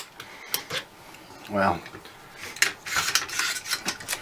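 Parts of a CAR15 rifle upper being pulled apart, giving brief metallic rasps, scrapes and clicks close by, with a short spoken word near the start.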